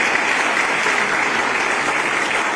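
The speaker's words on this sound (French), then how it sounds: "Je voulais qu'on donne une forte acclamation au révérend." Dense, steady applause from an audience at an evening church gathering honoring a reverend, a continuous wash of many hands clapping at even loudness throughout, with no talking over it.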